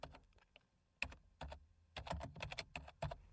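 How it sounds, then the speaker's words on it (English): Keystrokes on a computer keyboard while entering text in CorelDRAW X3, close and crisp, in irregular short bursts of clicks with brief pauses, no talking. "So I'm just going to type that in."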